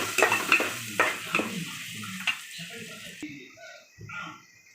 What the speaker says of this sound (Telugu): అల్లం వెల్లుల్లి పేస్ట్ కూడా పచ్చిదనం పోయేలాగా కొంచెం వేపేద్దామండి.